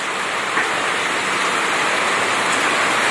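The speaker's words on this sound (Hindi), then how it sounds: "बारिश तो अभी भी हो रही है" Steady, dense hiss of rain falling, close and fairly loud, continuous without pauses or voices.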